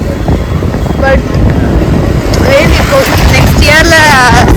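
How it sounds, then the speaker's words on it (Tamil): Strong outdoor wind buffets the microphone on a New Year night, a continuous rumbling roar under people talking throughout. "காற்று ரொம்ப அடிக்குதுன்னு நினைக்கிறேன்"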